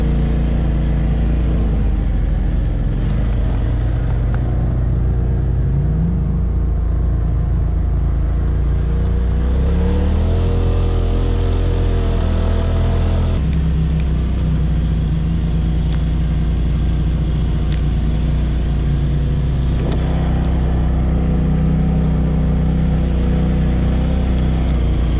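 Off-road rigs drive slowly in a group on a snowy trail around a lake during a Christmas ride, engines rumbling loud and close with gentle rises and falls in revs throughout.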